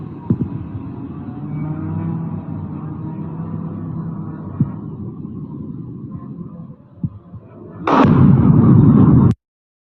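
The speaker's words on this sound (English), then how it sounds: "Massive explosions, massive damage." Explosions from a drone attack on an oil refinery in Russia: a continuous low rumble with scattered thumps and pops, then a loud, sustained blast roaring for over a second before cutting off abruptly.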